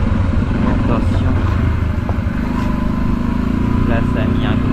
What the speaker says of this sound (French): ça a mis un gros coup de frein moteur par contre de passer la première